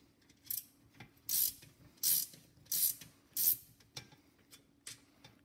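A flaring tool is cranked to form a bead on a steel brake line during a Gen 1 Blazer restoration, giving about five sharp ratcheting clicks in an uneven rhythm, close and fairly quiet.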